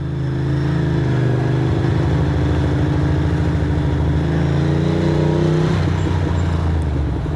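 A motorcycle engine drones steadily up close while riding, with pitch shifts as gears change and the revs rise and settle, continuous and loud throughout.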